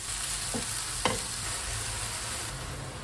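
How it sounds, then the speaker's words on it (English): Mushrooms fry in sesame oil with browned garlic in a pan, a steady close sizzle broken by a couple of quick stirring scrapes. "When the garlic becomes a little bit brown, you can add the mushroom."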